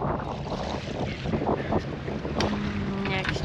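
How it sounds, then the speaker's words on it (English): Wind blowing steadily across a boat on Lake Champlain during perch fishing, a continuous broadband rush with gusty swells and small tonal knocks near the end. "Wow, it's gotten windier."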